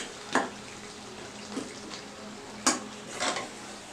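A metal pressure cooker filled with mutton curry is set onto a stove, giving a few sharp clanks and knocks spread over several seconds against a quiet kitchen background.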